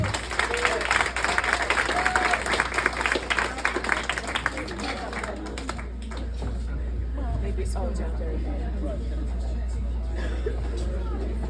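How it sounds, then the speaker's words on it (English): Crowd applause at a comedy set for a VFW fundraiser, loud sustained clapping with cheering voices that fades into a quieter babbling room after about six seconds. "one quick last round of applause for Aaron"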